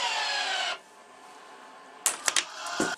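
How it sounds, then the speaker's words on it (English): A tennis racket stringing machine pulls 50 pounds of tension on a main string held by a starting clamp. A close, steady rasping whir lasts under a second, then a pause, then a few sharp clicks and rattles. "So I'm going to pull 50 pounds of tension slowly and see what happens."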